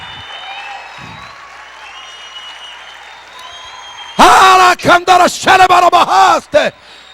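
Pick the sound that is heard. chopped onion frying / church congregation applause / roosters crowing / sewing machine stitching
church congregation applause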